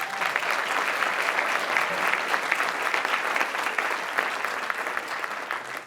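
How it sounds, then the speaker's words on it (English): An audience applauds four pitchers at a media conference pitching session before they begin, steady mid-level clapping from a sizable crowd sustained evenly throughout. "A round of applause before they even start"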